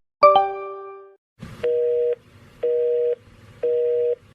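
A short tone rings out, then a telephone busy signal beeps three times in an even on-off rhythm, clear and close.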